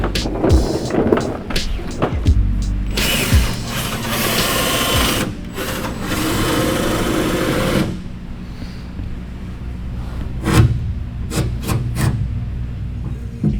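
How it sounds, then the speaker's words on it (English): Harsh grinding and rasping bursts of a drill boring through laminate flooring in a camper, with bumps and clatter between passes, loud and close. "I'm drilling some holes through my beautiful floor"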